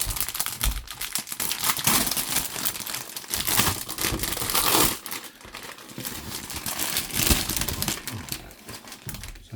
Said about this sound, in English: removing it from the cellophane bag